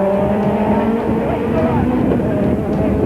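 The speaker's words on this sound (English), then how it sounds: "Can Briggs find a way past the BMW on the dash to the line?" Racing touring cars, a BMW among them, dash toward the finish line at a 1995 South African championship round in East London, engines roaring steadily and loud throughout with a commentator talking over them.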